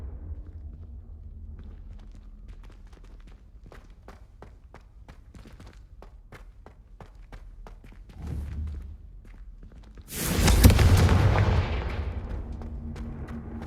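A Confringo blasting spell fired in the game Hogwarts Legacy bursts loudly midway, a broad fiery blast swelling then fading, after a stretch of quiet rhythmic footsteps and small thuds.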